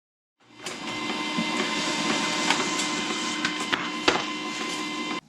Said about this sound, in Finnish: Nyt mä tulostin näitä putkipaloja paperille